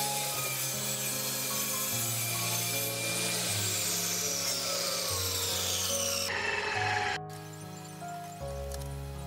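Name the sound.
cutting panel material for exhaust fan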